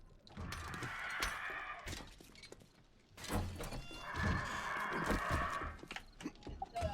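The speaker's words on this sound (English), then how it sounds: "That sounds like a vulture horde." Vulture horde in the video game 7 Days to Die, harsh screeching cries that come in two loud bursts, with thumping game noise between them.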